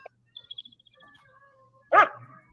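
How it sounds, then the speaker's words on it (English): A dog gives a single sharp bark near the end, after faint high whines and yips, in a quiet setting during a hunting-season outing in Montana. "Now the dog's going crazy"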